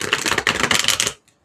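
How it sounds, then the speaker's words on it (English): Tarot cards are shuffled by hand during a reading, making a quick, dense riffle of crisp papery flutters that runs about a second and stops abruptly, close and fairly loud with no talking. "One more shuffle for Cancer, please."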